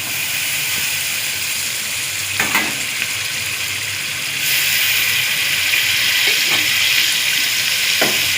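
Masala with yogurt, salt and chillies fries in a pan, a steady loud sizzle with hissing steam that grows more intense halfway through, broken by a few short scraping stirs.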